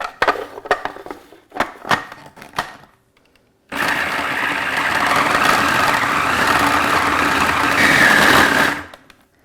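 A food processor whirs loudly and steadily for about five seconds, blending oat and peanut butter dough for gluten-free peanut butter brownie chocolate oat bites, after a few soft knocks and clatters.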